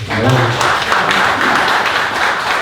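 A crowd at a Polish Independence Day anniversary event in Drohiczyn applauds, a loud, continuous clatter of many hands with a voice briefly audible at the start.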